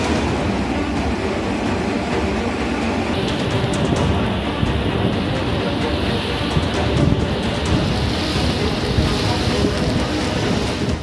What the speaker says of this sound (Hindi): पानी का यह शोर दहशत पैदा करता है